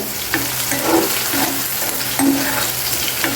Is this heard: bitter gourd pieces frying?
yes